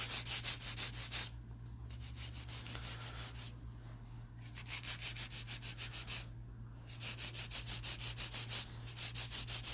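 Rapid rhythmic rasping of a file or drill sanding a long builder-gel nail, tapering it toward the free edge, with short pauses between strokes and a steady low hum beneath.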